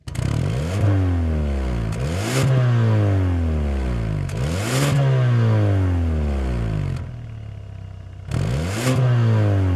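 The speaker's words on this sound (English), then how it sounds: "start it up, so you can hear that exhaust note." A 2026 Kia K5 GT engine revs hard several times in a row, each burst rising in pitch then falling back, with a deep, loud exhaust roar between brief lulls.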